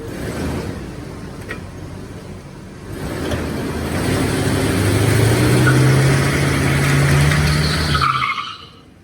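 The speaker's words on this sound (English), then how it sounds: "Four-wheel drive's working now on the transfer case" Chevrolet Tahoe wheels spinning on a raised drivetrain during a four-wheel-drive transfer case test in a garage, a steady mechanical whine and rumble that swells midway, holds, then cuts off abruptly at the end.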